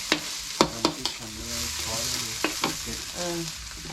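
Holy basil stir-fry (pad kaprao) sizzles in a pan, with steady frying hiss punctuated by several sharp scraping and clanking strokes of a utensil stirring the food, close and fairly quiet.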